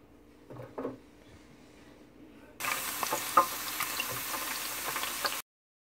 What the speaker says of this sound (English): I heated up my deep fryer to about 350 degrees or so, and now I'm just about to deep fry it.